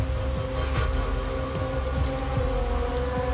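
Steady rain falls outside, a constant even hiss with scattered drops pattering on a surface, heard alone without voices throughout.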